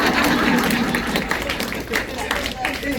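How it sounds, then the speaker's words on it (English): An audience at a panel conversation with queer women claps in a loose, uneven patter that swells and fades, mixed with crowd murmur and voices speaking over it. "And we were gonna clap for you."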